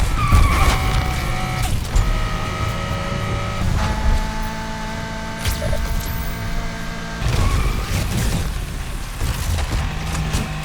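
In the video game Need for Speed Unbound, a car's tires skid and screech repeatedly while drifting over a steady engine drone, with sliding squeals rising and fading in bursts throughout.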